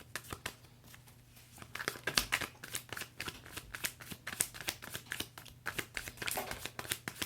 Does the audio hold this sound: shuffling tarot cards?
yes